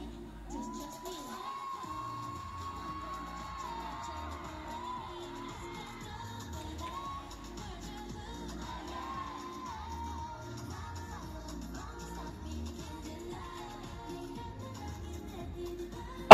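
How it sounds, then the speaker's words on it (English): A concert crowd at a live girl-group performance in a mall market, a dense far-off mass of shouting and cheering voices with high screams rising over it, continuous throughout. "Oh, the crowd."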